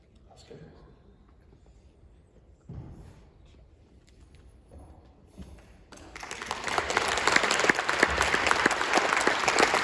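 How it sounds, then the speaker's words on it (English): An audience at a talk on the rise and collapse of WCW breaks into loud, sustained applause. Quieter talking and shuffling come first, then the clapping swells to fill the room. "Big applause, thank you very much."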